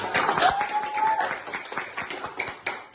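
An audience at an Indonesian talk show applauds a guest with a short burst of close clapping and a brief whistle, fading into scattered claps under a voice.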